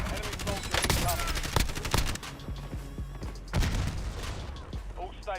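Video game war-zone gunfire: dense bursts of rapid shots and booms, loud and continuous, with the sharp cracks thinning out toward the end.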